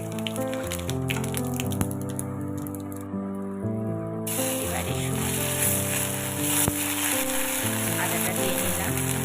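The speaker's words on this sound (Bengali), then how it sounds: "এবার ওই মাছ ভাজার তেলে আমি তেজপাতা, শুকনো লঙ্কা, জিরে, কালো জিরে আর আদাটা ফোড়ন দিয়ে" Bay leaf, dry chilli, cumin, nigella and ginger hit hot oil left from frying fish, giving a steady crackling sizzle that runs the whole time beneath loud background music.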